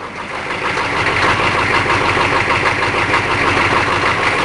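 A Chevrolet K5 Blazer V8 engine idles after a cold start in winter, a loud, steady, close rumble with an even rapid pulse throughout and no voices.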